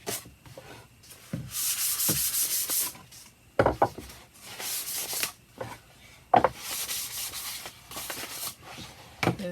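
Wood being hand-sanded with fine 400–600 grit sandpaper for a tool tray: close, breathy scratchy rubbing in long back-and-forth strokes with short pauses and occasional light knocks, no talk.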